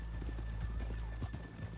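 Horses clip-clopping in the Red Dead Redemption 2 video game, soft repeated hoof beats at a walking pace over a quiet ambient hum.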